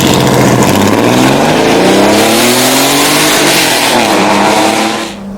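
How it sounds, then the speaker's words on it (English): A 1990 Porsche 911's engine revs loudly up close, a deep rumbling roar that climbs and falls in pitch for a few seconds before cutting off, with no voices. "if you listen to this thing idle, it sure the heck sounds like an LS when it starts up. It's got a mad rumble to it."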